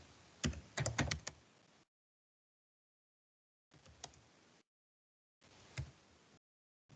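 Computer keyboard typing while code is written: a dense burst of quick key clicks, then two shorter, sparser bursts separated by silence, close and clear with no talking.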